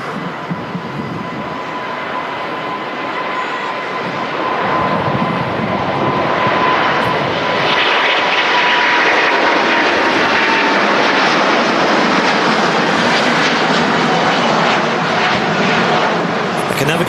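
An Airbus A350 with Rolls-Royce Trent XWB jet engines roars at an airport, a loud, broad jet rush that swells and stays at full power near the listener, with talk faintly underneath.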